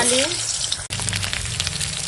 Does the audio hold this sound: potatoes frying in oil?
yes